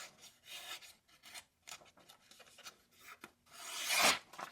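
Knife blade shaving and carving into wood, a series of dry rasping strokes with short pauses between them, building to one louder, longer cut near the end; close up, with no talking.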